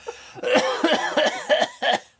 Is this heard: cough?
yes